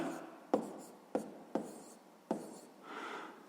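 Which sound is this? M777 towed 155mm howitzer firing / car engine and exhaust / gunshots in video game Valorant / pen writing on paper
pen writing on paper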